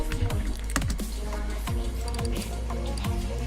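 Rapid clicking keystrokes on a computer keyboard while entering a part search in Car Mechanic Simulator 2018, a steady close run of crisp taps with no talking.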